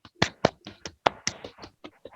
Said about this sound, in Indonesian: tepuk tangan dulu untuk Fiza.